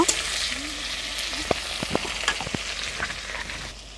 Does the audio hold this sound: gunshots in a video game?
no